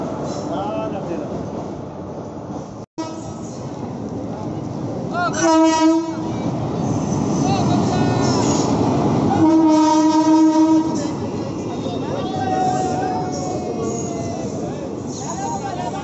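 A train departing with a rumbling, rolling engine and wagon noise, cut by two long, loud horn blasts, one early and one near the middle.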